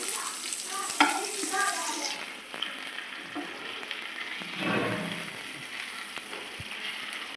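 A chicken leg piece frying over a low flame while being turned in the pan, steady close sizzling with scraping stirs and a few clinks, no talking.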